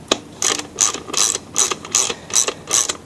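A hand ratchet clicks in quick rhythmic bursts, about seven strokes, loosening the 5/16 shroud bolts on a Poulan Pro mower during a tune-up; close and crisp with no talk.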